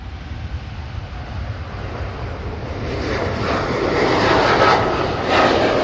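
Airliner rolling for departure on the runway at Manchester Airport, a steady broadband jet engine roar that builds in loudness halfway through and holds strong, with wind-like rushing and no talk.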